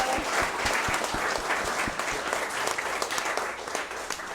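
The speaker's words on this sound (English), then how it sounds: "Can we please give Devon and Giovanni another round of applause, please?" An audience applauds two turtle experts after their evening presentation, a continuous patter of many hands clapping at moderate volume, steady for several seconds and tapering slightly near the end with no speech over it.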